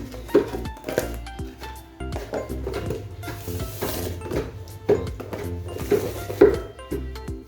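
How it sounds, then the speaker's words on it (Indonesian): Cassava leaves simmer in coconut milk in a pot while a utensil stirs steadily, giving soft sizzling, scraping and occasional clinks against the metal. "Ini kan saya aduk-aduk terus."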